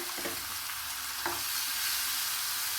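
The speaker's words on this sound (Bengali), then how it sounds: "মশলাটা লাল করে কষে নিচ্ছি" Spice paste for potol chicken, with cumin, coriander and turmeric powder plus a splash of water, sizzles steadily in a pan, with a couple of soft spoon scrapes up close.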